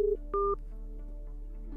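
Outgoing call being placed on a smartphone with Truecaller installed: a couple of short DTMF keypad tones, one low and one dual-pitched, followed by a faint steady line hum, with no voices.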